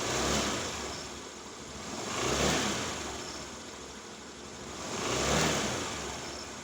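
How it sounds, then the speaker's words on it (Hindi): A United 100cc automatic petrol scooter on its double stand, being tuned: the engine revs up and falls back twice in smooth swells over a steady idle, heard close and moderately loud with no speech. "अब हम रेस दे के देखेंगे कि इसका रिस्पांस कैसा है।"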